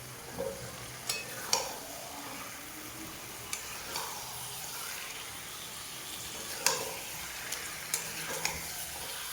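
Chicken legs, necks and liver are stirred and fried in a spiced masala in a pan, with a steady close sizzle and scattered scraping clicks of the spoon.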